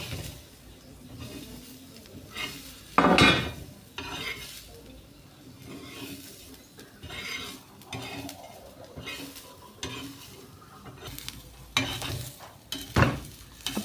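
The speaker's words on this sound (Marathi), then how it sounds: "हा सर्व मसाला मी एकत्रच भाजत आहे" A spice mix with coriander seeds is dry-roasted in a pan, making a soft rustle as it is stirred. Several sharp metallic scrapes and clinks of a utensil against the pan stand out.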